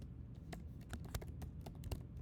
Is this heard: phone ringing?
no